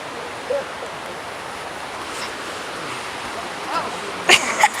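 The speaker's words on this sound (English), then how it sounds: "I hear the roaring water." Roaring waterfall at Minnehaha Falls, a steady broad rush of falling water heard from nearby, with a few brief clattering sounds toward the end.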